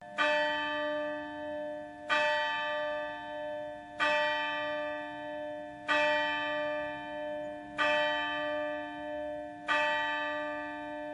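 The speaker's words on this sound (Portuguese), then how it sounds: "os sinos da igreja soaram meia-noite" A church bell tolls midnight in slow, regular strokes about two seconds apart, six clear rings heard, each sustaining a rich, humming tone that fades before the next strike, with no other sounds.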